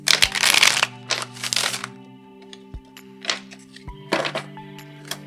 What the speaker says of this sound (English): I'm just gonna shuffle it a few times